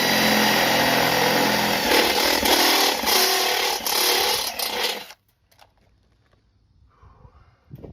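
A power drill with a step bit enlarges 7/16-inch holes to 1/2 inch in a washing machine drum, whining loudly and steadily for about five seconds before cutting off, leaving near silence with faint handling noises.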